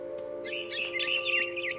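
Bird chirping in the video game What Remains of Edith Finch: a quick run of bright, warbling tweets over a steady low game-ambience hum, fairly close and moderately loud, with no talking.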